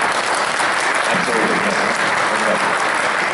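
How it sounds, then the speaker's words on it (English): Loud, dense applause fills a town hall forum for state representatives in East Boston, continuous clapping from a crowd with a voice briefly heard over it. "A round of applause for our translator."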